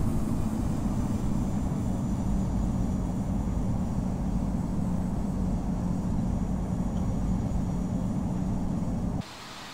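An MD-11 airliner taking off in the Infinite Flight simulator game, a steady loud engine roar and rumble that drops off sharply at the end, with no talking.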